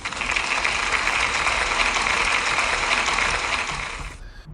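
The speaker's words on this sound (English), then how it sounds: "Can we give Holly a big round of applause, please?" An audience at a school celebration assembly gives a pupil a round of applause: dense, even clapping that holds for about four seconds and then stops abruptly.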